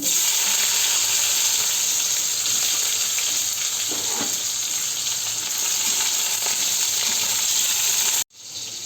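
Cumin seeds and tomato hit hot oil and sizzle loudly and steadily up close, a dense frying hiss that cuts out abruptly near the end.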